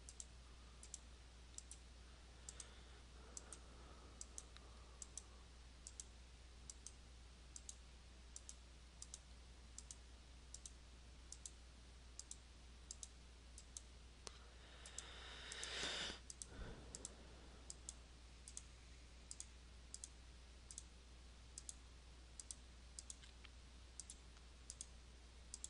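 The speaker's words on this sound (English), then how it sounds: "Right click and enter." Sharp, quiet computer mouse clicks repeat at a roughly regular pace while drafting in CAD software, with a brief louder rustle partway through and no speech.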